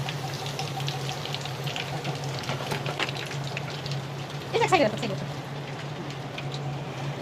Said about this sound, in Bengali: চিকেন ফ্রাই করতে হবে তো এটা যাই ভেজে নিয়ে আসি